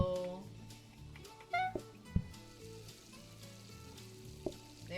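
An onion fries on a stove in the PlateUp video game with a steady sizzle, punctuated by short kitchen clicks and blips from the game, while a voice talks over it.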